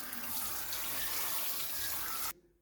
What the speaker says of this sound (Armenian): աղբյուրի ջրով մի հատ ողողում եմ